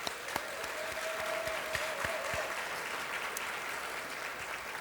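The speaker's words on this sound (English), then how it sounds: "Let's give them a round of applause." Audience applause at a 2024 Teacher of the Year gala, a steady wash of clapping from a large crowd that holds for the whole stretch, with a few sharper claps standing out near the front.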